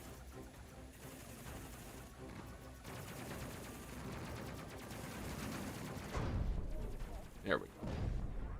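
Ship turret guns firing in the space video game Space Crew, with both gun types on upgraded turrets: a dense stream of rapid shots rumbling under a brief spoken remark, with a heavier boom near the end.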